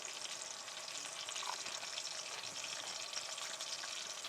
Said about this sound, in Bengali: এদিকে টমেটোগুলো ভালো করে ভাজা হতে থাক।